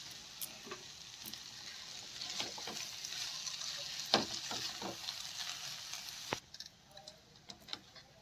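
Schezwan fried rice with fresh coriander stirred in a pan, a quiet continuous sizzle broken by light spatula taps and scrapes, with a brief louder clatter midway and a short calmer stretch at the end.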